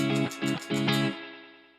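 A few quick guitar strums drenched in springy, slightly metallic reverb from a Donner Arena 2000 multi-effects processor, the last chord ringing out and decaying smoothly over the final second.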